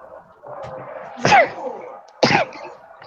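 Two abrupt, explosive sneezes burst out about a second apart, close and loud, against faint background noise.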